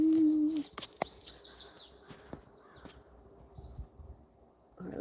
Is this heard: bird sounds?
yes